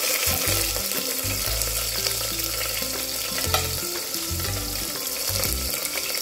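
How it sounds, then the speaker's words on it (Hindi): Onion frying in hot oil with cumin, cardamom, black pepper, bay leaf and cinnamon, a loud steady sizzle with constant stirring close up, no voices. "ऑनियन को हल्का ब्राउन कर लेंगे।"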